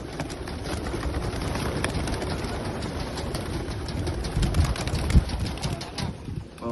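Racing pigeons released at a derby in Tacloban, Leyte, with a dense rush of flapping wings and scattered cooing close by, building into a louder burst of wingbeats toward the end.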